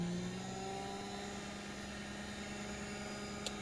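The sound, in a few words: slot car motor running at about 3 volts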